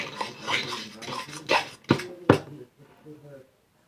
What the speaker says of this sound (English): Then just mix it up really good